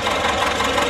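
A 1961 Same 250 tractor engine runs at a steady, dense rumble with a gritty knocking texture, loud and close, with no pauses over the short stretch.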